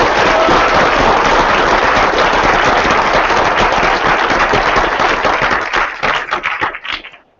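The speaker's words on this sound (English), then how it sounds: "please give a round of applause for Sana Amanat" An audience at a college event claps in dense, sustained applause that holds steady, then thins into scattered claps and stops.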